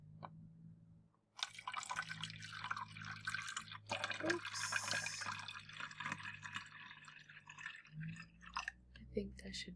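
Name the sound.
water poured into an empty bottle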